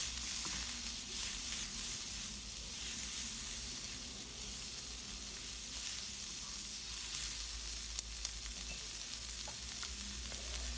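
Yellow and red bell peppers sizzling in a cabbage stir fry over medium heat, a steady close frying hiss with faint occasional stirring clicks, no voices.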